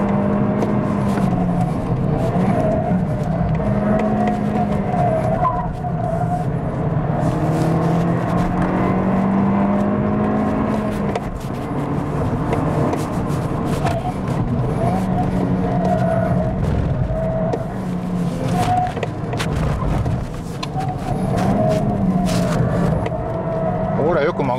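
Toyota Corolla Sport on a test drive, heard from inside the cabin as a steady engine drone with shifting revs and road noise, with someone talking over it throughout.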